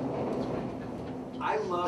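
A train passes near a station on a city street, a steady rumbling roar lasting throughout with a brighter squeal or screech of wheels rising near the end, heard up close.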